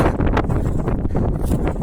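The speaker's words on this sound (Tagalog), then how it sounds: "Parang mas dinig na dinig yung hangin." Strong mountain wind in Kibungan, Benguet, buffets the microphone in a continuous loud roar with gusty rumbling, no voices.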